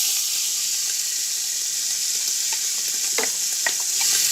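Onions sizzle in a pan with pancetta, a steady, close, bright frying hiss with a few soft stirring scrapes and pops toward the end.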